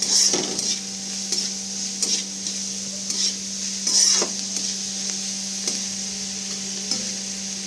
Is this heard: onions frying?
yes